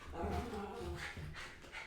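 A 12-week-old puppy biting another dog's tail, giving short whimpers, yips and panting close by while a person talks underneath.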